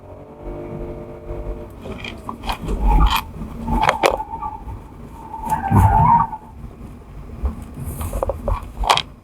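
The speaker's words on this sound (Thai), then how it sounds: "นี่กดมาเต็มที่เลยครับ ตาเร่งดีมาก" A Nissan Kicks e-Power crossover is driven at full throttle on a test course, giving a loud, close mix of road and tire noise that swells and fades in several surges, with occasional scraping squeal-like bursts.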